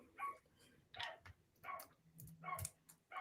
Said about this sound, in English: Is that one of your dogs, Angie?